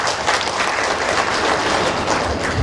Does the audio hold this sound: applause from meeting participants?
yes